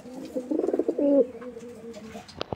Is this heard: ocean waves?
no